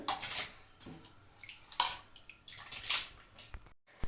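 Soaked sago and rice tip into water in a pot, giving a few short splashing, pouring bursts with quiet gaps between them.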